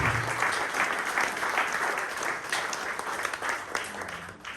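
A pub audience at a Fremantle community politics evening gives a big round of applause, a thick, continuous clatter of many hands at close range, steady throughout.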